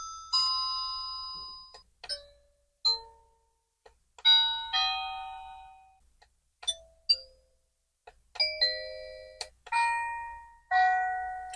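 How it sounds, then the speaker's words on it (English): A series of electronic doorbell chime melodies from a wireless strobe doorbell kit plays one after another, each a short ringing tune with pauses between, clear and close. "cycle through the chimes to choose one"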